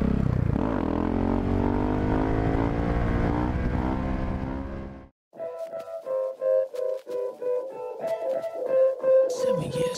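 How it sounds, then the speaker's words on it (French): A motorcycle revs hard in one long rising pull, cuts off abruptly, then fires off a string of sharp, choppy throttle blips while being ridden on its back wheel in a wheelie. "Je vais terminer cette vidéo par un petit wheeling."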